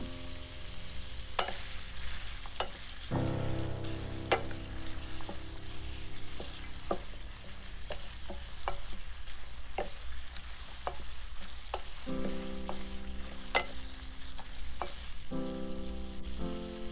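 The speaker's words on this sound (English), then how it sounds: "add 1 teaspoon dark soy sauce to brown the ribs" Pork ribs browning in dark soy sauce sizzle steadily in a pot, with intermittent humming tones and repeated scraping and clicking from stirring across the stretch; no speech.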